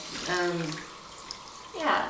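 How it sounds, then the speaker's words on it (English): A tap runs while the water is being warmed up, its steady rush rising at the start and again near the end, with a voice-like tone passing briefly in between. "Sorry, I had to warm up the water."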